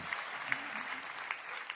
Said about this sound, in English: And a big hand clap goes there.